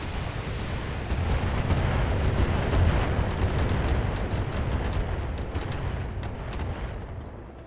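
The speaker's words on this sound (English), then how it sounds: "we're going to get almost every one of these missiles into this behemoth" A dense, continuous roar of missile precision-strike explosions rumbles in a video game as a salvo pounds a huge target, with crackling blasts layered over heavy low booms and no voices.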